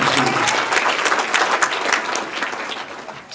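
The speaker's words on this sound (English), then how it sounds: "So another nice round of applause for Steve and all he does for the Touchdown." Enthusiastic applause fills a football touchdown club banquet and Hall of Fame induction in Ashtabula, with steady, dense clapping from a large room throughout and no clear voices on top.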